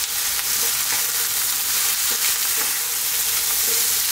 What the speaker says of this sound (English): Keep this moving, frying it around.